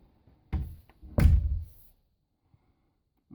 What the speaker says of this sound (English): there's the latch on. I'm going to try shutting the door